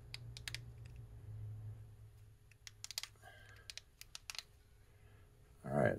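Plastic case of a Honda key fob being pressed shut, its tabs snapping into place: a quick cluster of sharp, close clicks and ticks over a faint steady hum, with a brief rustle of handling at the end.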